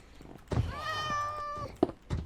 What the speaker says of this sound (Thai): แมวเกิดด้วยนะครับ